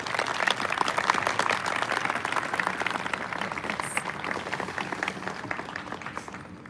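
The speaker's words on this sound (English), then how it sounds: "let's give another round of applause to these servant leaders" Audience applause at an academic honors parade for cadets, a sustained, dense wash of many hands clapping outdoors that stays steady and then tapers slightly.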